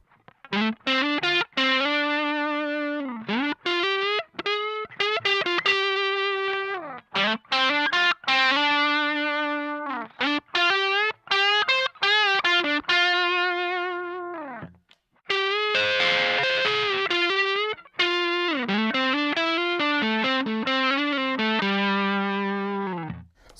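Electric guitar through a Mad Professor Big Tweedy Drive overdrive pedal plays a mix of distorted lead notes and bends, with short pauses between phrases and a burst of full chords, loud and saturated.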